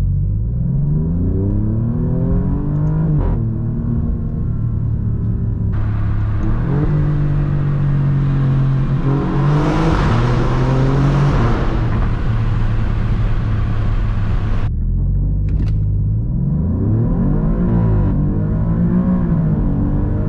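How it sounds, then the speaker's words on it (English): Alfa Romeo Giulia Quadrifoglio sport sedan exhaust revving hard, rising and falling engine notes with sharp pops on upshifts, loud and close throughout with no talking. "when you upshift, you get this really, really loud pop"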